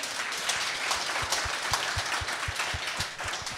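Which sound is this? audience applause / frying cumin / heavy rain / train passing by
audience applause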